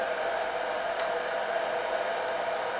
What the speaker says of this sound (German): Das ist hier mein Föhn.